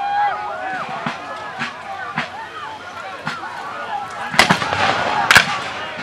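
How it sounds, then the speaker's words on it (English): At a Civil War reenactment muster, Confederate artillery fires from afar under trees. Several dull booms thump at irregular intervals beneath outdoor chatter, and the last two are sharper and louder. "Confederate artillery is still off in the distance under the trees."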